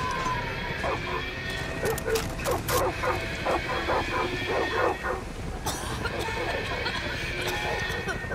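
Dogs bark in a shooter game world, a run of loud yaps and woofs amid game ambience and background noise, with someone talking over parts of it.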